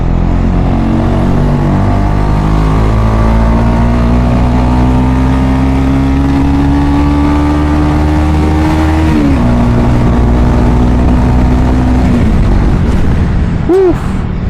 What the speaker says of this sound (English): it feels nice to ride a motorcycle after some good time